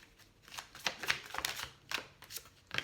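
A tarot deck is shuffled by hand, a close, soft run of riffling card flutters and taps in uneven bursts, quiet and without talking.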